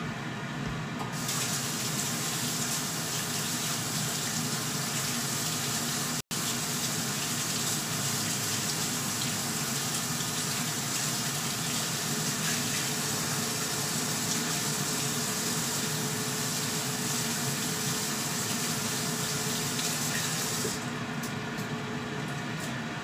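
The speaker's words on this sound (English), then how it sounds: "Let me just rinse my hands quick." A kitchen tap runs in a steady, loud gush for about twenty seconds while hands are rinsed underneath, then shuts off.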